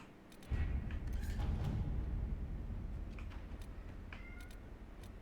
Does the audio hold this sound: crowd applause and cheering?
no